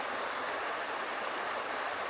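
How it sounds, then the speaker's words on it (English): A partly frozen waterfall in winter rushes as a steady, even hiss of flowing water that stays constant and alone from start to finish. "There's a frozen waterfall."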